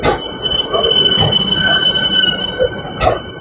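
A new air-conditioned ICF-coach local train on the Eastern Railway arriving at platform 5 of Ranaghat station: a loud, steady rail rumble with sustained high-pitched wheel squeal throughout and a brief sharper screech near the end.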